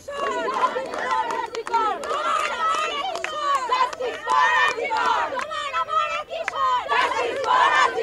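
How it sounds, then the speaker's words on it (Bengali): Lawyers chanting slogans in a court compound, a loud crowd of shouting voices with rhythmic cries rising and falling amid hurried movement and babble. "এই মুহূর্তে আমরা দেখছি কোর্ট চত্বরে স্লোগান চলছে"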